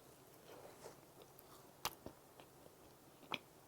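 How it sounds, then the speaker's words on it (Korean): Crisp, close bites into a crunchy Korean yakgwa honey cookie with a crispy outside and moist inside, giving a few sharp cracks followed by soft, quiet chewing, no talking. "치아가 씹으면서 겉은 되게 바삭바삭한데요"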